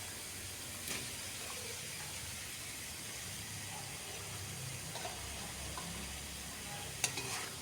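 Fried potatoes sautéed with onion and spice paste in plenty of oil, a quiet continuous sizzle with a few light stirring taps and one sharper clink near the end.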